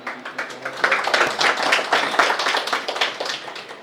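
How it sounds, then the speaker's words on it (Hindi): A congregation clapping hands in praise during a Hindi-language Christian worship service in Bhopal, a brisk, uneven patter of many hands close by, rising and falling in loudness. "ताली बजाएं प्रभु ईश्वर के"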